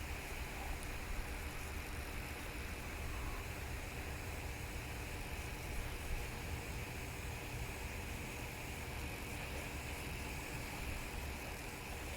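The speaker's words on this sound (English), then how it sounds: "We've got our compressor kicking." Air compressor running continuously to feed an HVLP paint spray gun for priming a farm disc harrow with oil-based Rust-Oleum primer, a steady broad hiss and hum heard at a distance with no breaks.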